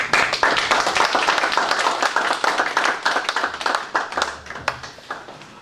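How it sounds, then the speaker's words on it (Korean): An audience at a land-justice movement anniversary Bible gathering welcomes a professor to the lectern with dense, vigorous clapping. The applause is close and sustained, then thins slightly toward the end, with no voices. "힘찬 박수로 김근주 교수님 맞이합니다"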